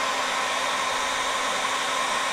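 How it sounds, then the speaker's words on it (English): A hair dryer held close to an LG G4 phone blows in a steady, loud, unbroken whoosh with a constant motor hum and no talking. "I'm holding the dryer a little closer than I did with my phone."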